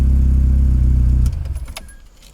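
A car engine with an exhaust leak at the muffler joint runs with a loud, rough, pulsing low rumble, then cuts off abruptly, followed by faint jingling of keys.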